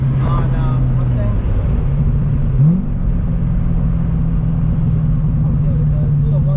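The exhaust of a 2009 Corvette ZR1 drones loud and steady under wide-open throttle, with a rising sweep around a gear change midway through. Someone talks over the engine throughout.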